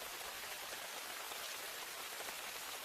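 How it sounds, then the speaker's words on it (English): Steady, dense rainfall in the Amazon rainforest at the start of the rainy season, a continuous even hiss of drops with no breaks and no voices. "A week after the fight, the rainy season finally kicks in."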